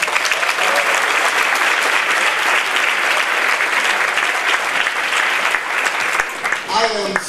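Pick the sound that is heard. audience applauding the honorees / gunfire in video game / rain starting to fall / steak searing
audience applauding the honorees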